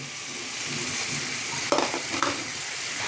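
Fried potatoes and prawns tipped into sizzling masala in a pan, a steady hiss of frying with a short burst of clatter and louder sizzle as the pieces go in, close up and alone.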